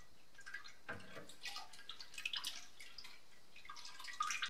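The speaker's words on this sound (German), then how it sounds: "Jetzt können wir die vorsichtig hineinkippen." Dissolved gelatin is poured into homemade pumpkin mead, a faint, scattered trickle of small splashes and drips running quietly and close throughout, with no talking.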